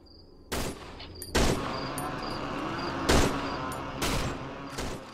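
Rifle gunfire in the horror video game Cry of Fear, five loud sharp shots spaced irregularly about a second apart, each with a short echoing tail over low background ambience.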